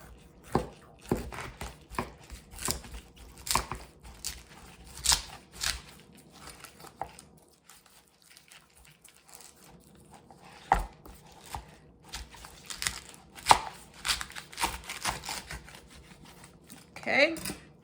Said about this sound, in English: So just start in the center with a sharp knife, cut down.